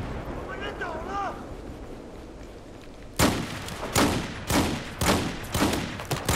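Video game battlefield combat: after a quiet stretch with faint chirps, repeated loud bursts of gunfire and heavier cannon-like blasts erupt from about three seconds on, in a rapid uneven rhythm.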